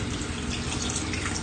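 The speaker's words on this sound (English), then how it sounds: "Got 3 cups of water here." Three cups of water poured into a bowl of dough mix for papusas, a dense, continuous splashing rush close by that fills the short moment without pause.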